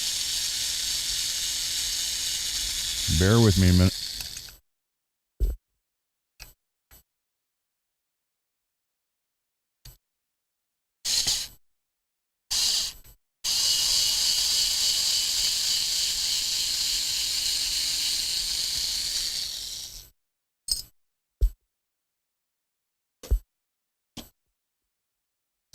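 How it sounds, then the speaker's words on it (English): A steamer hisses in long, steady bursts while dents are steamed out of a guitar's finish on a repair bench, with short clicks and puffs between the bursts and one brief spoken remark. "So should be able to steam those out."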